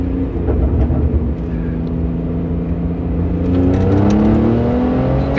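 A Porsche RWB sports car engine roars loudly and continuously, pitch climbing as it accelerates hard, heard from inside the car with no talking.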